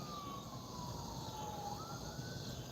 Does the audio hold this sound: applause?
no